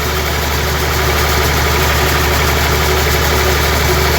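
A Massey Ferguson 240S tractor runs in first gear at low, steady revs while spreading fertilizer over crop fields, its loud, continuous engine drone and rhythmic knock filling the whole stretch with no talk.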